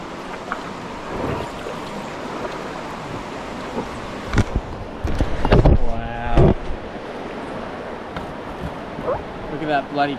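Swollen creek running fast after heavy rains, a steady broad rush of water beneath wind buffeting on the microphone, with someone talking briefly over it.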